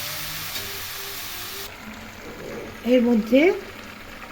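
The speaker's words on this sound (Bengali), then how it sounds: "এখন ঢাকা দিয়ে লো ফ্লেমে রান্না করে নেব।" Bengali betho shak greens cook in a covered pan over a low flame, giving a soft steady sizzle that fades partway through, followed by a brief spoken phrase.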